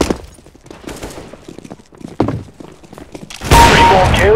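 Rapid gunfire from a Counter-Strike: Global Offensive deathmatch video game: scattered sharp shots and thuds give way to a loud, dense burst of firing near the end.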